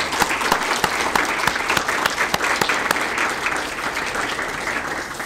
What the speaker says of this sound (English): So one more big round of applause for them.